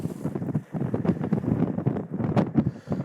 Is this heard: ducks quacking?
no